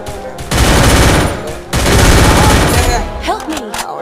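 Rapid automatic gunfire bursts in a shooting video game, loud and sustained over two long volleys with a brief gap, ending in a scatter of smaller effects and a landed headshot; some voice talk sits underneath.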